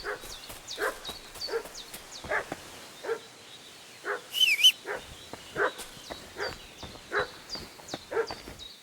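A dog in the video game Kingdom Come: Deliverance II barks repeatedly in a steady rhythm of short yelping barks, moderately close, with no talk.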